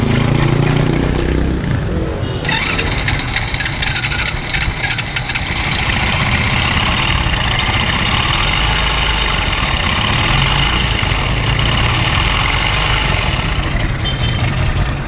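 A Rusi 125 motorcycle engine idles loudly and steadily up close, with a harsh rattling, buzzing abnormal engine noise riding over the running engine after the first couple of seconds.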